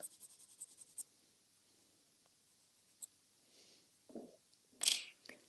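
A pencil sketches on paper in soft, scattered scratches and a few sharper strokes, quiet and close, with a louder burst of scribbling near the end.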